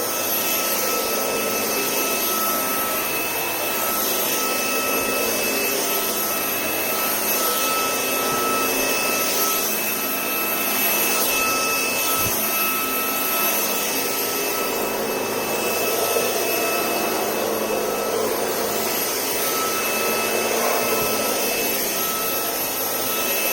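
A Shark Wandvac cordless vacuum runs steadily over a low pile carpet, a continuous close whine with light rubbing and scraping as it picks up loose debris, alone without talk.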